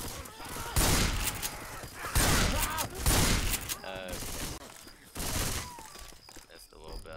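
Gunfire in the zombie shooter Left 4 Dead 2 comes in several loud, dense bursts separated by brief lulls, with thuds and clatter between volleys and no talk in between.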